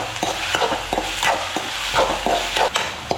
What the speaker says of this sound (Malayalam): അപ്പോൾ ഇത് നല്ല ബ്രൗൺ കളറാവുന്നത് വരെ ഒന്ന് വഴറ്റി കൊടുക്കാം.